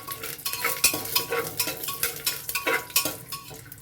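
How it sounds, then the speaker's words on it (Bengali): Peanuts frying in a pan for vegetarian bhuna khichuri are stirred with rhythmic scraping strokes, a quick regular series of close, gritty sweeps with light metallic clinks over a soft sizzle. "প্রথমে আমি চিনেবাদামটা দিয়ে দিচ্ছি, যেহেতু এটা একটু ভাজতে সময় লাগে তাই এটা আগে দিলাম।"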